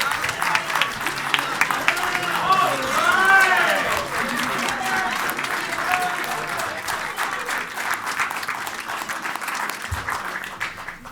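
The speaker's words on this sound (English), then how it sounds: "Let's have one more round of applause for our honored teachers." A large crowd at a high school event applauds steadily and loudly, a dense wash of clapping that continues throughout, with voices and cheers mixed in.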